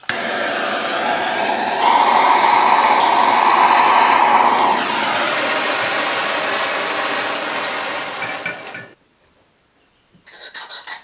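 A torch heats a steel knife blade for heat treatment on a frame lock folder build, giving a loud, steady roaring hiss for about nine seconds that cuts out abruptly, then briefly returns near the end.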